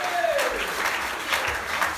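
Brief burst of applause from a church congregation acclaiming the king, a dense wash of clapping with a voice rising over it.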